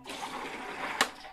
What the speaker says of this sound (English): Ooh, it's bubbling.